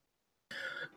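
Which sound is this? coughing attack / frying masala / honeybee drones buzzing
coughing attack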